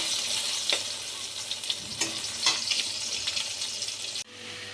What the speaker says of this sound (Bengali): এখানে এবার আমি উচ্ছেটা আর বেগুনটা ভেজে নিচ্ছি।